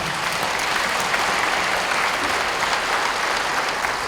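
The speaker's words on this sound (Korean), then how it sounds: "다시 한번 박수 한번 보내주시죠." A large audience at a national women's convention breaks into loud, sustained applause, a dense unbroken roar of clapping that fills the whole moment without any talk over it.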